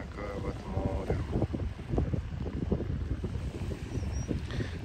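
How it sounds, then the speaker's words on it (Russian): Wind and sea on the Sea of Azov shore near Yeysk in April, a steady loud roar of gusting wind buffeting the microphone over breaking surf, with no voices. "Вот такое вот море."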